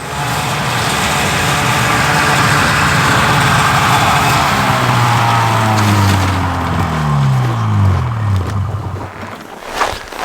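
A Polaris White-Track snowmobile engine runs loud and close outdoors in snow, holding a steady rough drone before its pitch sweeps down and fades near the end.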